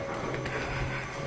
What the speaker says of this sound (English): Yep, someone's vacuuming.